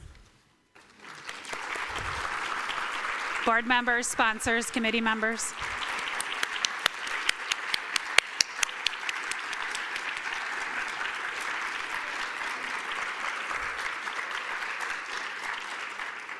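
At a benefit concert for Jewish Family Services, the audience breaks into sustained applause that starts after a brief pause and continues steadily, with a speaker's voice briefly heard over the clapping early on.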